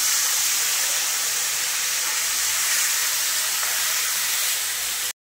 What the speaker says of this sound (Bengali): এবার ওই একই তেলে আমি দিয়ে দিলাম কুচনো পেঁয়াজ।